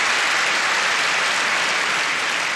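Applause from a comedy club audience, a steady wash of many hands clapping with even density throughout, close and loud with no voices over it.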